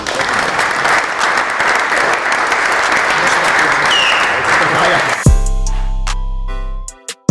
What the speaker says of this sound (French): Hein, ça s'applaudit